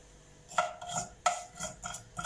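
A spoon clinks and scrapes against a pan while mustard seeds are stirred in hot oil for tomato rice, a few quick metallic knocks close by and no voices.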